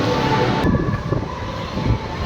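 A train at a railway station, a loud continuous rumble with clattering and a steady tonal hum, close and dense, lasting a couple of seconds.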